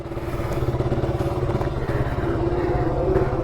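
A 2018 RC200 motorcycle engine runs nearby with a rapid, rhythmic throbbing pulse and some clatter, loud and steady throughout, with no voice over it.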